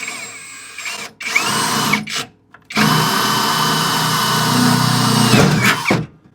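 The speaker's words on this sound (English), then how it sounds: "then I'm gonna run the hole saw on the other side" A loud power drill whirs steadily with a hole saw on a 1941 Mercury brake fabrication job, cutting briefly, pausing, then running for a long continuous stretch close up.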